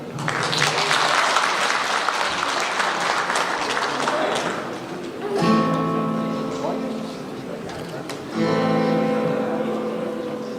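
An audience applauds at a National Assembly member's constituency report meeting for Jeungpyeong, Jincheon and Eumseong. Loud, dense clapping fills the first five seconds, then gives way to an amplified voice over the room, with brief bursts of clapping between.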